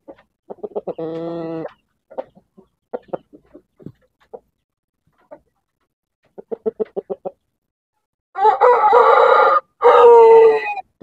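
Shamo gamecock roosters crowing and clucking nearby, with short bursts of clucks early on and two loud, full crows at the end, alone with no talk.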